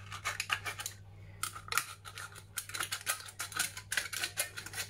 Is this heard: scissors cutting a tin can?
yes